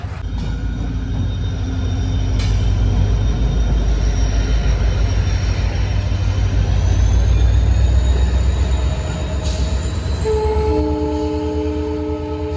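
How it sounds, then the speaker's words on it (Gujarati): A train passes by, its loud rumble swelling toward the middle and easing off, with sustained horn-like tones sounding near the end. "ટ્રેનનો અવાજ આવી ગયો"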